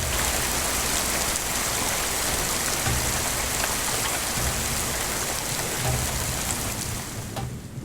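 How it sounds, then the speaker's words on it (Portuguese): Heavy, wind-driven rain pours down steadily and loudly in a region of dirt roads in Brazil, a dense unbroken hiss of drops on surfaces that lasts throughout and eases only slightly at the very end. "Choveu com força."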